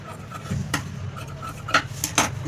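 Scissors trimming extra blouse cloth, with a few faint, separate snips and light rubbing of fabric at a quiet, close range.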